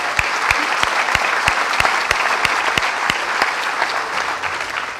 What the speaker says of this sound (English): I'd like to send them a big round of applause.